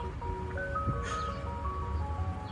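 A Tesla Boombox external speaker plays an ice cream truck jingle from a car in a parking lot, a tinkling melody of sustained tones over low road and engine rumble, moderately quiet.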